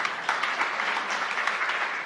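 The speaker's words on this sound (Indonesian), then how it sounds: "tepuk yang meriah bagi Tuhan" A church congregation claps during a sermon by Pastor Lukas Kusuma, a dense, steady patter of many hands with sharp individual claps standing out, filling the whole moment without any voice over it.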